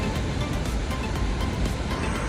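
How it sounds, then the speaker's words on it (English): Akaka Falls, a huge waterfall in Hawaii, gives a constant broadband rush of falling water heard from a distance, steady and fairly soft, with no voices over it. "That's a huge waterfall."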